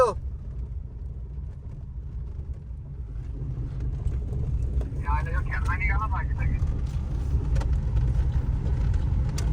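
A car idles and rolls slowly in through a farmhouse gate at night, a low steady engine rumble throughout while people talk nearby.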